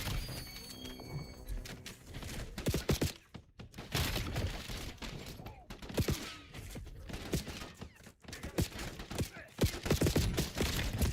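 Gunfire in a Call of Duty Black Ops 7 match, dense rattling bursts and scattered sharp shots mixed with impacts, close and continuous, with voices talking over the fighting at times.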